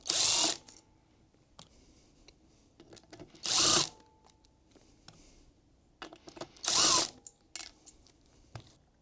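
A power tool whirs off 13mm nuts from the flywheel cover plate on a Ferrari 348/355, three loud close bursts of drilling separated by quieter clicks and handling of the metal parts.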